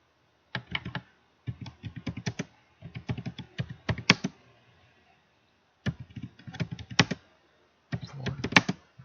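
Someone types on a computer keyboard while writing in MS Word. Short bursts of quick, crisp key clicks alternate with brief pauses, close up and with no talk.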